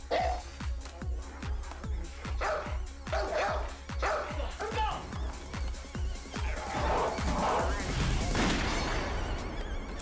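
Inside a diner, a dog barks repeatedly in a fast, steady run of sharp barks, loud and close, with some voices and room noise under it.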